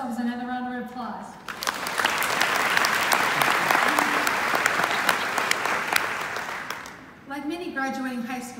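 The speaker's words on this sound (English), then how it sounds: "Class of 18, let's give ourselves another round of applause." Graduating class applause at a CPCU conferment ceremony, a sustained roomful of clapping lasting several seconds, with a speaker's voice before and after it.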